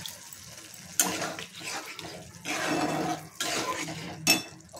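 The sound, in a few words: water poured into jackfruit seed curry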